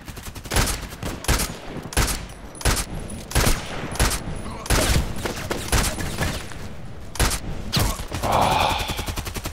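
Repeated gunshots from an FNP19 pistol in the video game Contract Wars, a dozen or so loud, sharp cracks fired in an irregular rhythm, close and prominent, with short pauses between shots.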